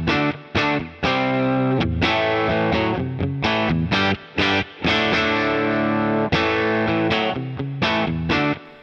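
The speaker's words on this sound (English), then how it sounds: "I'm going to turn back on my reverb and push play." Looped electric guitar playing through a Boss Katana amp with reverb and a looper pedal, heavily effected with distortion and chorus, steady chords and picked notes repeating in rhythm, loud and close with no talk.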